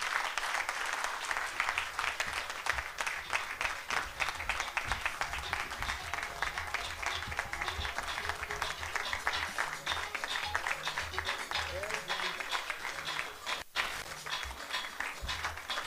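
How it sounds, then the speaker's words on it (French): Sustained, dense applause from an audience after a speech about football and Côte d'Ivoire, steady clapping filling the whole stretch with a brief dip near the end, no voices on top. "Applaudissements nourris pour Madame Daougaba Mariam pour son exposé."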